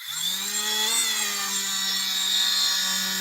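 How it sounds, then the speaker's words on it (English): A Dremel rotary tool spins a sunshine cloth buffer wheel to polish silver jewelry, giving a steady, loud high-pitched whine that holds level for a few seconds. "I have it's a sunshine cloth that's been, they sell them as Dremel buffer wheels"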